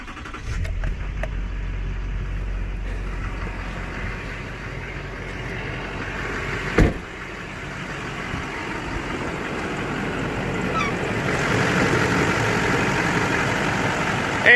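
A Duramax diesel truck engine with about 200,000 miles cranks and fires up, then settles into a steady, fairly loud idle with a low rumble, heard alone without talking.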